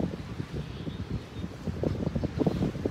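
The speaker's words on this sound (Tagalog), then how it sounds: "Ang hangin lang, sobra." Strong seaside wind outdoors in Cebu, buffeting the microphone in uneven low rumbling gusts that rise and fall continuously, with no one speaking.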